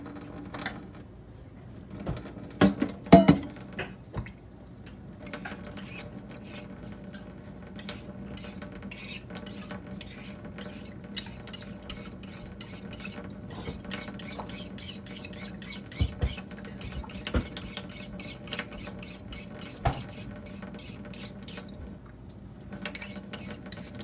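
A small old knife slicing pepperoncini peppers into rings on a board, rapid repeated light clicks and taps of the blade, close and continuous, with a few louder clanks early on and no talk.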